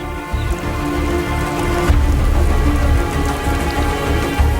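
Heavy monsoon rain pours steadily over the plains of Sri Lanka, a dense, continuous hiss of drops close by with a brief swell midway, no voices.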